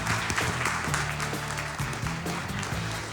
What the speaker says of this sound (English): Let's give a round of applause to Ragnar.